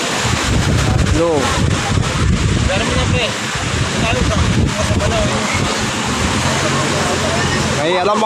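Large waves churn and crash along Manila Bay at Navotas while strong wind buffets the microphone, a loud, rough, continuous roar with surging washes, and speech can be heard under it.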